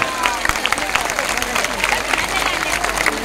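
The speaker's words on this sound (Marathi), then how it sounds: "टाळ्या वाजवून आम्हाला त्याचा होकार द्या" Crowd applause at a political rally in Karjat, steady dense clapping throughout with a cheering murmur of the audience, loud and close, no clear speech over it.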